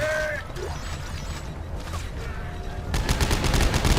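Bursts of rapid gunfire in the Dead Space 3 video game during co-op play, rattling volleys over mechanical clanks and game ambience, growing louder and denser toward the end.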